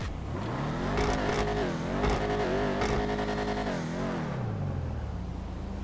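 A car engine from the video game GTA 5 Online, one of the Chop Shop DLC cars, revs up and down in a steady, loud drone, the pitch climbing and falling several times before easing to a lower idle.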